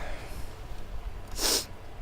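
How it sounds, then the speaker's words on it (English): A single short, sharp sneeze bursts out after a stretch of quiet room noise, close and fairly loud. "I have to sneeze."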